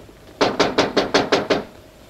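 Seven evenly spaced knocks on a door, firm and close, in a quick steady rhythm in an otherwise quiet room.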